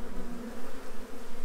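A bee trapped inside a pollen trap buzzes continuously and close, a steady droning hum with slight wavering in loudness.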